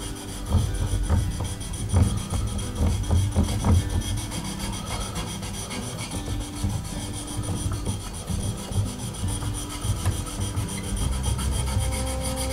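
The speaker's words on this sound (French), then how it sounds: "On appuie bien le ciseau de manière à ce qu'il soit bien à plat sur la pierre." Flat chisel blade rubbed back and forth across a sharpening stone, a steady gritty rasping in repeated strokes, close and fairly loud.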